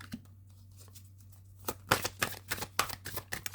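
Tarot cards are shuffled by hand, with quiet rustling at first and then a fast run of crisp, loud riffling snaps over a low background hum.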